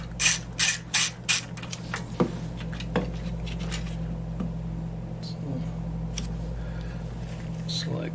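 A ratchet clicks and metal parts clink while bolts come off a pressure washer, with a few sharp bursts early on and a steady low hum underneath, close by and mostly without talk.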